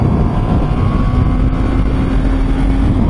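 A Honda CB650R motorcycle engine pulls steadily under hard acceleration, a loud continuous drone with a faint rising whine and heavy wind rumble, with no break across the whole stretch.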